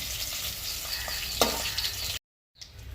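Fried rita fish pieces being lifted out of hot oil one by one, with a continuous close sizzle and a single scrape of a utensil before the sound cuts off briefly.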